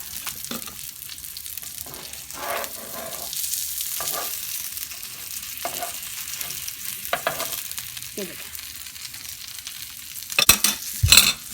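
Fish pieces fry on a tawa in the Lahori style, a steady low sizzle punctuated by occasional scrapes and turns, ending in a few louder clattering knocks.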